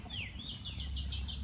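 Birds chirp at an outdoor hot spring, a series of repeated sweeping whistle-like calls in the middle distance over a steady low rumble of flowing water or wind, with no talking.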